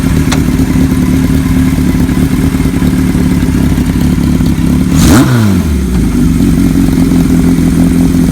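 A 1975 Kawasaki Z1 900 motorcycle rides down the road, its engine a loud, steady, close rumble with one quick rev and shift partway through, no talking.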